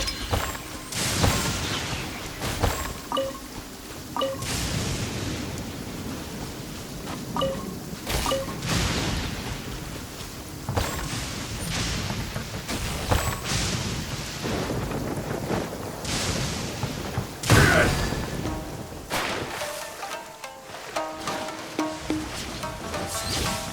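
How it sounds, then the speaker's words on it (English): A thunderstorm in the Genshin Impact video game brings steady rain with repeated loud thunder cracks and rumbles breaking through at irregular intervals. "Please stay indoors until the storm passes."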